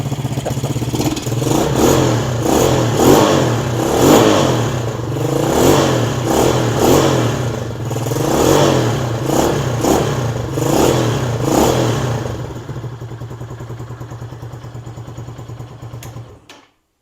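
A Venom SS3 KP mini 150 mini bike engine with a freshly repacked muffler revs hard in a series of rising and falling bursts, loud and nearby, then settles to a steady idle before cutting off.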